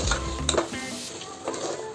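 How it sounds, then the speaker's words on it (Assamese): Pulao rice with fried onions is stirred in a slippery pan, giving a continuous close scraping and sizzling with occasional spoon knocks against the metal. "মই এতিয়া ইয়াতে চাউলখিনি দি ধুনীয়াকৈ লৰাই লৈছোঁ"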